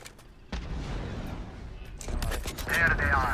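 Gunfire in the video game Valorant, a rapid volley of shots growing louder toward the end, with muffled talk under the battle noise.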